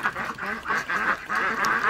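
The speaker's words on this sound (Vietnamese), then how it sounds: "Thôi chết rồi, tan hoang tan tác cái đàn vịt ơi." A flock of ducks quacks in loud, overlapping bursts as a dog scatters them on a tea-growing hillside, the calls rising and falling in rapid pulses close by with no talking.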